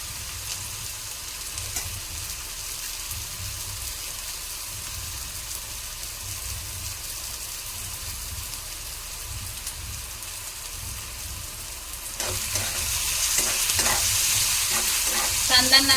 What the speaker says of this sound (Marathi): कांदा तेलात टमाटा परतायचा आपण।